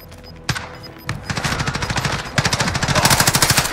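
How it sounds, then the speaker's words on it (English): Rapid automatic gunfire in the video game Call of Duty Warzone, a loud sustained burst of rattling shots after a couple of single cracks, close and continuous with no talking. "Check your shot! Stop shooting!"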